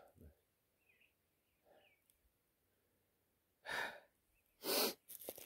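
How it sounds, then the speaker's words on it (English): A person sniffs through the nose in several short, sharp bursts, the loudest two near the end, separated by quiet breathing. "quit sniffing"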